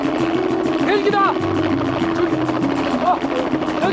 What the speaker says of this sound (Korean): 헬기다.